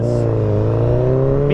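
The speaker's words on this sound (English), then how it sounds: "freaking kick this little Fireblade into life" A Honda CBR1000RR Fireblade motorcycle engine, a 2012 bike, hums and revs at a steady idle close by, a short continuous mechanical drone.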